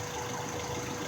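Car engine idling steadily while fuel pressure is checked before a fuel system cleaner test, a continuous low mechanical hum with no pauses across the short moment.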